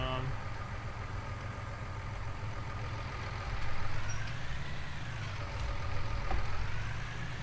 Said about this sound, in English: Hopefully this tractor can lift it.